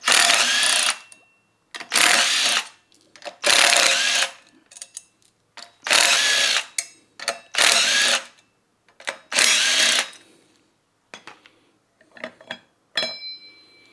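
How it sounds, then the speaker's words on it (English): A power tool removes the old rear chainring from a Kawasaki ZX4R motorcycle, firing in repeated loud, close bursts of whirring and rattling with short pauses between them. "let's pull the old chainring off"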